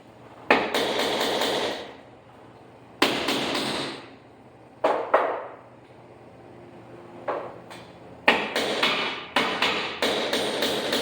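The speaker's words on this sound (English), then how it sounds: "I'm going to nail that up into the wood." Nails are hammered through drywall into ceiling wood, sharp, loud, reverberant hammer blows in short rapid bursts separated by pauses, ending with a quick series of strikes.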